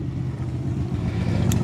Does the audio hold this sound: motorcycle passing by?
yes